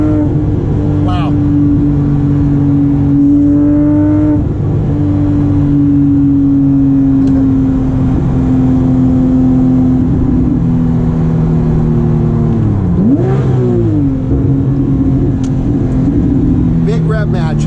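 A Porsche 997.2 GT3 RS engine holds a loud, steady drone from inside the cabin, with a sharp rev-matching blip near 13 seconds, while a person talks over it.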